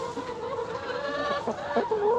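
Chickens cluck and murmur continuously at close range, a steady flock chatter with a few louder calls near the end.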